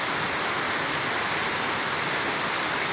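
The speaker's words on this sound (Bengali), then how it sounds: "খুবই বৃষ্টি হচ্ছে।" Heavy rain pours down over a market, a dense, steady hiss of falling water with no pauses and no voices.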